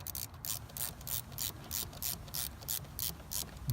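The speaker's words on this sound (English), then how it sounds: "And then you take a 3/16 Allen wrench. Start torquing a little bit until it starts pulling." A 3/16 Allen wrench with a ratcheting action torquing a fuel pump bolt on an F150, a quick series of crisp mechanical clicks in steady bursts, close and moderately loud with no talking.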